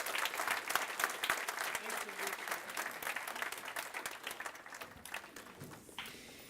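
At the Rochester STEM Academy 2014 graduation ceremony, an audience in a hall claps in a dense, sustained round that gradually thins and fades toward the end.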